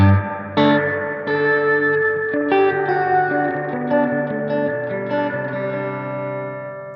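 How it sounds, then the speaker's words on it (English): Electric guitar chords ring through a Stone Deaf SD-30 amp head with heavy spring reverb, each strum trailing a splashy, wobbly echo that sustains and overlaps. "Really lovely old school spring reverb sound."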